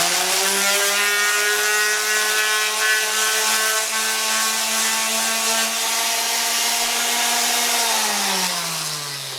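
Big Ryobi power sander running steadily on the flat bodywork of a Yamaha FZ600 motorcycle fairing, a loud close whine with a grinding rasp, its pitch sagging slightly near the end.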